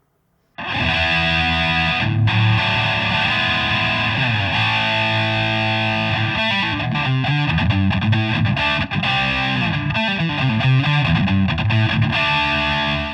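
A heavily distorted electric guitar, a Greco Ace Frehley ES-600 with DiMarzio Super Distortion clone pickups, plays sustained, crunchy chords with a thick, saturated tone, loud and continuous with no voices.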